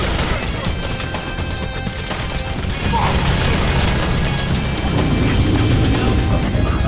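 Grenade blasts in the Bionic Commando video game, a dense run of booming, crashing explosions layered over continuous game noise, growing louder partway through and staying loud to the end.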